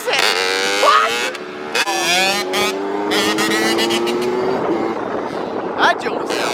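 Two-stroke dirt bikes rev hard in first gear while riders pull wheelies, engine pitch climbing and sweeping past at close to middle distance, with people talking and shouting over the noise.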